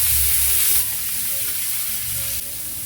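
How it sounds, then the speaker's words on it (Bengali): Small fish fry in soybean oil in a kadai, giving a steady, close crackling sizzle that eases slightly partway through. No voices are heard. "মাছটাকে ভেজে নিচ্ছি।"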